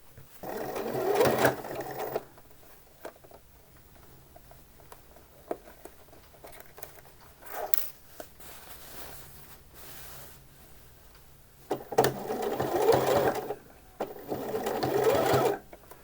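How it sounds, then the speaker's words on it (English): Sewing machine stitching a seam within the seam allowance on a shirt back piece, in short bursts of fast, close mechanical whirring separated by quieter pauses. "do a line of stitching along here within the 1 centimetre seam allowance, just to hold all that in place"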